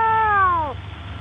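A single cat gives one clear, drawn-out meow that slides downward in pitch and cuts off cleanly, close and fairly loud against a quiet background.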